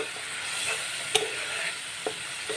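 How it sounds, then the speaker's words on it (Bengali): Ginger, chilli and turmeric paste sizzling in hot oil as it is stir-fried, a faint continuous crackle broken by a few sharp spoon clicks against the pan. "এটাকে আমি কষিয়ে নেব।"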